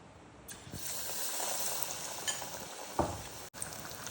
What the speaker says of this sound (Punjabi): ਇੱਧਰ ਅਸੀਂ ਤੇਲ ਗਰਮ ਰੱਖਿਆ ਤੇਲ ਗਰਮ ਅਸੀਂ ਰੱਖ ਲਿਆ ਵਾ ਹੁਣ ਅਸੀਂ ਟਿੱਕੀ ਨੂੰ ਪਾ ਲਾਂਗੇ ਇਹਦੇ ਵਿੱਚ